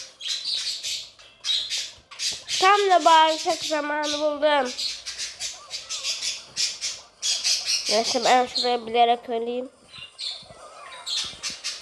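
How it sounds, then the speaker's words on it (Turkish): A pet bird lets out two bursts of harsh, rhythmic squawking, close and loud, between stretches of a person talking. "Kuş sessiz ol kuş."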